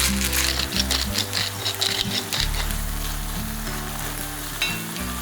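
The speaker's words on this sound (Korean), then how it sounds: "달궈진 냄비에 오일을 두르고 다진 마늘, 다진 양파를 볶아주세요. 다진 소고기와 맛술 한 스푼을 넣고 볶다가" Minced garlic, onion and ground beef frying in a hot oiled pot with mirin, a steady loud sizzle with stirring scrapes, alone without talk.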